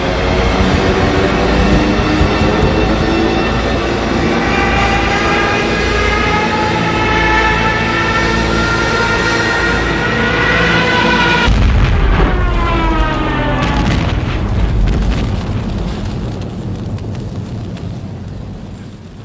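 Bombs from diving aircraft explode on the ground in a sustained, heavy roar of blasts and rumbling, loud and continuous with a deep booming surge midway that slowly tapers off.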